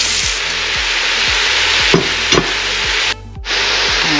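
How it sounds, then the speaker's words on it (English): Elbow macaroni noodles going into a pan of seasoned ground meat, a steady close sizzle broken by the rhythmic scrape and clunk of a utensil stirring, with a brief louder rustle near the end. "now we're going to go ahead and add in our noodles"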